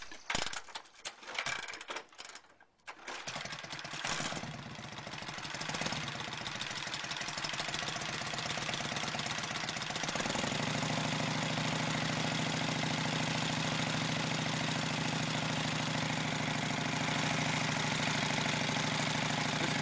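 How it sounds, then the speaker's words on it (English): An Indian 101 Scout motorcycle engine is kick-started after choking and opening the carburetor, with some clattering mechanical sounds first. It then catches and settles into a steady, loud, close-up idle that runs evenly for the rest of the time. "We're going to choke the bike, give it a kick, open up the carburetor. It should start right up."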